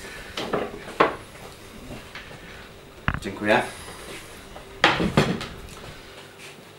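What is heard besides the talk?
green wooden cutting board being handed over and set down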